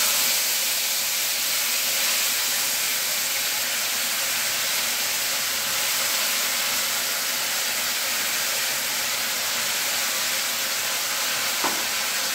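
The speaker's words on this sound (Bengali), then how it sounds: "এবার আমি কড়াইতে দিয়ে দিচ্ছি মিক্সিতে বেটে রাখা মশলাটা।" A masala paste of ground tomato, ginger and green chilli fries in a kadai, giving a loud, steady sizzling hiss that runs unbroken with no talking.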